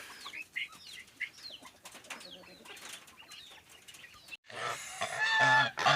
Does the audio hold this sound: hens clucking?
yes